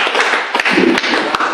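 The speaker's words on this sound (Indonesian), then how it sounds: "Tepuk tangan dulu untuk kita semua." A seated audience claps at an Indonesian gathering, a brief round of loud, close applause with a few sharp individual claps standing out toward the end.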